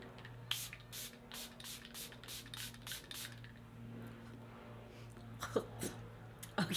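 Coola setting spray misted onto a face from about a foot away, heard as a quick run of about nine short, crisp hissing spritzes in steady rhythm, followed by quieter rustling and a couple of faint clicks.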